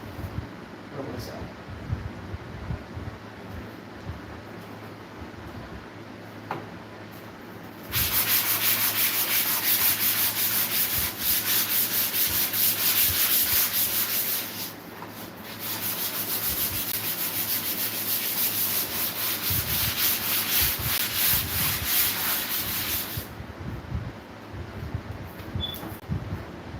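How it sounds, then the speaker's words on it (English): Steady, raspy sanding strokes, loud and close, running in long continuous stretches with brief pauses and quieter scraping between bursts. "You always want to keep a sanding block on you."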